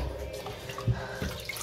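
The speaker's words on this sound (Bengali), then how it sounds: "চালটা ভালো করে ধুয়ে নিচ্ছি" Water running and splashing in a kitchen sink while rice is washed for cooking, a short close wet swirl with a small drip-like splash partway through.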